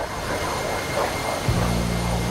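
An A-4E-C jet engine roars steadily in a flight simulator game, a dense, continuous whine and rumble that deepens with a low droning tone in the second half.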